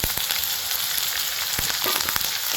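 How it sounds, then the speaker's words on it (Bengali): Ginger, garlic and curry leaves fry in hot oil, giving a steady, close sizzle dotted with quick crackles and pops, with no voices. "এটি এবার ভালো করে ভাজে নিতে হবে"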